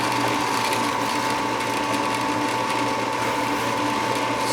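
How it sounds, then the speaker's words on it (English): Shopfox W1848 drill press boring straight through wood with Drill America bits, a loud, steady motor whine with a constant hum and continuous cutting noise, no voices. "let's just try drilling straight through the wood."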